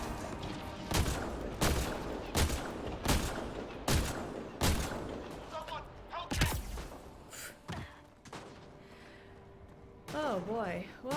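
Rapid gunfire crackles through a firefight in the sci-fi shooter Mass Effect Andromeda, loud bursts repeating in a steady rhythm, then thinning out as a few lone shots ring among game effects and a player's gasps.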